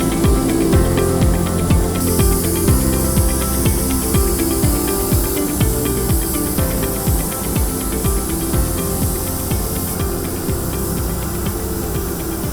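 A sprayer lays protective coating onto the walls of a masked-off spray booth, producing a steady, loud, unbroken hiss with a faint hum and flutter underneath and no voices.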